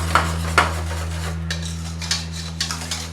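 A spoon stirs chicken powder into a pot of chicken and cream soup, tapping and clinking against the metal pot in scattered strikes over a low, steady background hum.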